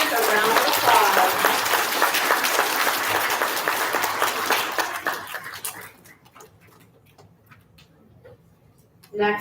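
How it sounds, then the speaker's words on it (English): An elementary school crowd gives fourth grade students a round of applause, loud clapping that continues for about five seconds, then thins into scattered claps and fades to quiet room noise. "Give our fourth grade students a round of applause."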